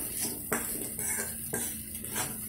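A metal spoon scrapes and knocks rhythmically against a pan while chura matar, flattened rice with green peas, is stirred and mixed, with faint sizzling beneath the close, repeated clatter.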